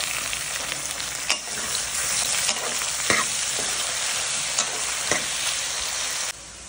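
Golden-brown masala with tomatoes for dum aloo sizzles steadily in a pan, a loud, continuous close crackle with a few faint clicks and no voices.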